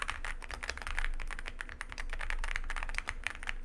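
Rapid, steady typing on a new computer keyboard, fairly loud and close, with clicky keystrokes running continuously and no talk.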